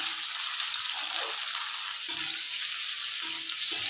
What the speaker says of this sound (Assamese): মই শুকান জলকীয়াখিনি একেলগে দি দিছো দি এখিনি মই অলপ ইয়াৰ কালাৰটো ব্ৰাউন নোহোৱালৈকে এখিনি ভাজি ৰাখিম